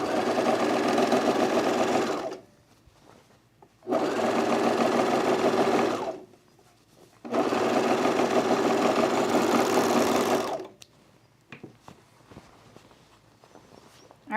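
Sewing machine stitching Glissando pants from a Love Notions pattern, running in three steady bursts of about two to three seconds each, separated by short pauses and small handling noises, close and loud.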